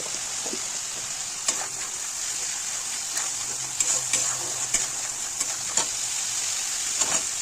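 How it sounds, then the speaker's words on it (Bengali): Spice paste with chopped tomato and a splash of water sautéing for chicken curry, a steady close sizzle and hiss in the pan with scattered spatula scrapes and stirring taps throughout, no talking. "মশলাটা যাতে ধরে না যায় সেজন্য একটু জল দিয়ে মশলাটাকে কষিয়ে নেব"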